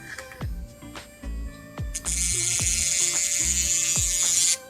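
A portable nail drill runs at a little under half speed, a steady high buzzing that starts about midway and holds close and fairly quiet, with earlier knocks and handling clicks before it.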